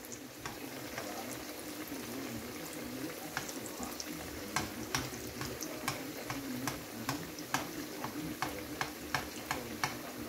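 Mesmen flatbread fries in a pan with a soft, continuous sizzle, while regular light ticks and taps sound through it, growing a little more frequent toward the end; no one speaks.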